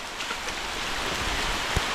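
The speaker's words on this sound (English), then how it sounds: "the rain is picking up again too." Steady rain patters down by a creek in a dense, even hiss, with a single louder drop near the end. No voices are heard.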